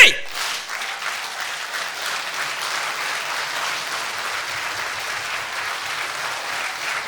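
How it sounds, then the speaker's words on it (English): Audience clapping as loud as they can on the count of three at an anniversary event, a sharp onset that settles into a sustained, even wash of applause lasting several seconds. "on the count of three, everybody clap as loud as you can"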